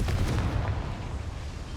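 A Confringo fire spell blast from the Hogwarts Legacy video game, a loud, sustained booming burst with heavy low rumble that holds for under two seconds with no talk.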